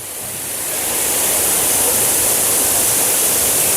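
Sidhnath Dari waterfall roars as a loud, steady broadband rush of falling water close by, swelling in the first second and then holding constant with no voices.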